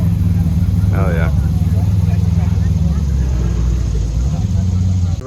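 A car with a swapped LS engine idles loudly and steadily up close, a deep rumbling drone that holds throughout, with a brief shout cutting in near the start.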